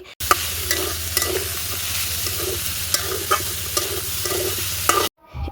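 Shredded cabbage and boiled cubed potatoes frying in a pan for cabbage momo filling, a steady close sizzle punctuated by repeated scraping strokes of a spatula, ending abruptly.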